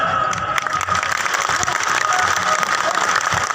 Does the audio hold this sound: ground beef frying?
no